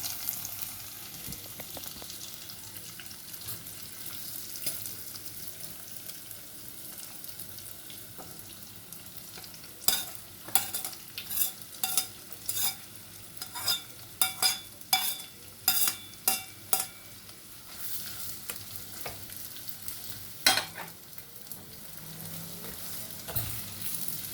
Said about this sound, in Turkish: Şimdi soğanımla havucumu koyacağım. Birlikte kavuracağız.